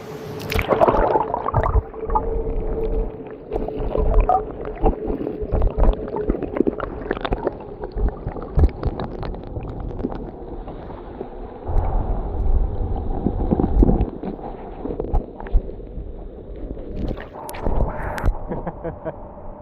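Camera lowered into river water, giving muffled underwater gurgling, sloshing and low rumbling bumps that run continuously and stay close and fairly loud.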